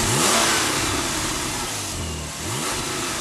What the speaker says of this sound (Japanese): この中にはフラット6のツインターボがあって530倍絞り出します